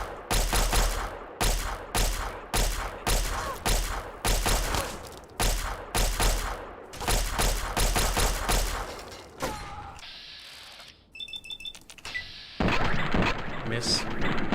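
Laser pistol firing in the Fallout 3 video game, a string of loud, evenly spaced energy shots with sharp attacks, followed by quieter game sounds and electronic effects, with someone talking over parts of it.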